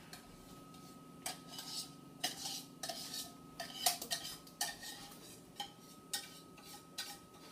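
A thick baking mixture is scraped into a bowl of butter, with repeated close clinks and scrapes of a utensil against the bowl in an irregular rhythm.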